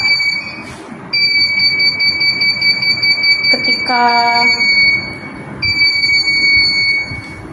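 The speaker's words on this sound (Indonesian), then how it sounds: "Ketika didekatkan, itu akan membuat di website itu menjadi status sangat dekat, dan tempo dari buzzer itu semakin cepat." An IoT proximity sensor's buzzer beeps in quick, evenly spaced pulses that speed up as an object nears, then holds a longer steady tone, all clear and close over a noisy background hum.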